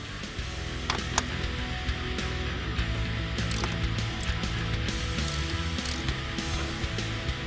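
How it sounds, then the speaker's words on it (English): A ratchet wrench clicks rapidly and continuously as bolts come out of a 2005-2012 Mustang seat to part the seat back from the bottom, close and dense, with occasional sharper metallic ticks and no talking. "Remove these bolts on both sides here and allow us to separate the seat back from the seat bottom."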